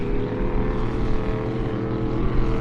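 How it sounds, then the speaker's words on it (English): Unlimited-class racing powerboats thunder across Lake Glenmaggie, a loud, deep, sustained engine roar with rich low rumble and wind buffeting, no voices. "Just enjoy these unlimited boats here on beautiful Lake Glenmaggie."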